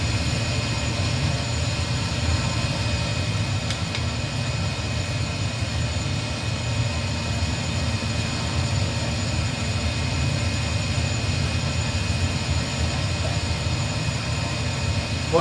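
Steady turboprop engine drone of a DHC-3 Turbo Otter in a flight simulator game, a continuous low rumble with an even hum that holds constant and unchanged throughout, with no talking.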